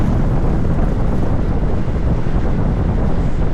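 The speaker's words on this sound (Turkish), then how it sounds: "Ya hava hala rüzgarlı arkadaş" Steady, heavy wind buffeting the microphone while riding a Honda PCX 125 scooter at night, a continuous loud low roar with no letup.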